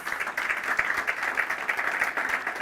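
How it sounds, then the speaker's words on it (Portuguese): A church congregation claps loudly and steadily for Jesus at a worship service, a dense, continuous wash of applause filling the space with no voices on top. "dê uma salva de palmas bem forte para Jesus"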